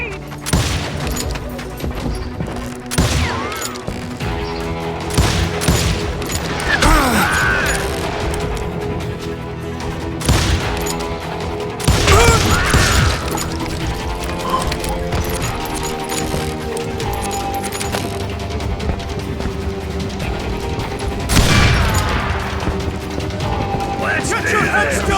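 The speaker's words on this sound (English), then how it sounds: "Shooting in the street!" Gunfire rings out in a street shootout in the Call of Juarez Gunslinger game, with repeated sharp shots and bursts scattered through a dense, busy mix of music and game effects, under occasional talk.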